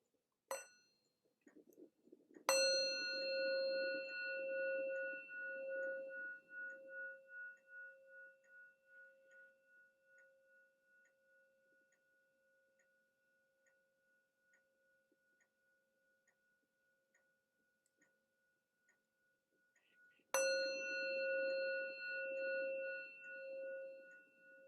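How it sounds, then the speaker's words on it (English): Meditation bells ring out in a quiet room: after a faint tap, a bright, sustained chime decays slowly over many seconds, then a second strike rings clearly near the end, with calm silence between. "So I'm going to start us off with a couple of bells."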